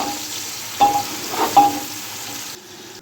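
Chicken frying in a pot with onion and whole spices such as coriander seed and cinnamon sticks, a steady sizzle with a couple of brief stirring scrapes, heard close up and alone.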